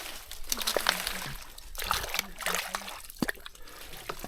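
Water trickles and sloshes inside a small wooden fishing boat as it leaks, close and steady, with voices talking over it.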